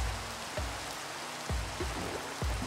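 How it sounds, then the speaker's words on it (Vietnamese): Heavy rain falling in a Minecraft world, a steady broadband wash of rainfall with a few brief low swooshing sweeps over it, continuous and moderately loud. "Mưa rơi tầm tã."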